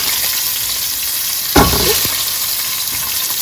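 Oxtail sizzles steadily in a hot pan, a dense, close crackle of frying that holds throughout, with a sudden clatter and scrape of stirring midway.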